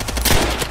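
Rapid gunfire from the World at War shooter game rattles out in one loud, dense burst of overlapping shots, close and punchy, lasting under a second.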